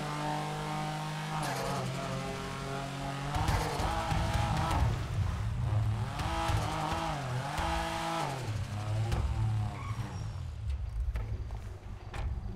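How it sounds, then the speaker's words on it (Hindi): Modified Toyota Corolla with a turbo engine in GTA 5, revving steadily with rising and falling engine pitch, loud and continuous under background game music. "तो टर्बो वाला साउंड देगा ये, देखना अभी"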